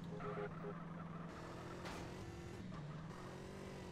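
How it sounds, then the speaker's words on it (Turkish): Engine of a police motorcycle in the video game GTA San Andreas, a steady droning hum that shifts pitch a few times as the bike revs, heard alone at low volume. "Neyse, polis motorunu da aldık bu arada."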